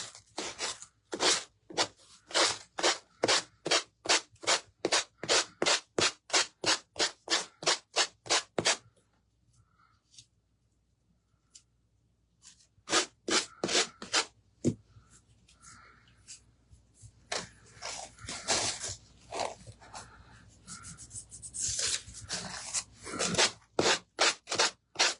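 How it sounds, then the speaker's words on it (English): Hand-sanding scrap wood: rapid rhythmic back-and-forth strokes of sandpaper, loud and close, pausing for several seconds midway and then resuming in denser, more uneven strokes. "Let me go ahead and sand this off."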